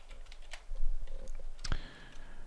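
Keyboard typing while writing Java code in IntelliJ IDEA: a few scattered key clicks with one sharper clack, close and fairly quiet, with no voice over it.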